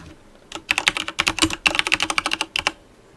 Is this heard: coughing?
no